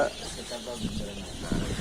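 Young Sonali chickens recovering from illness cluck briefly and softly at a poultry rearing setup, with a voice talking over them.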